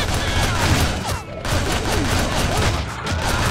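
Rapid gunfire rattles through a co-op fight in a bombed church level of the action game Shank 2, a loud, continuous barrage of shots with brief dips in intensity.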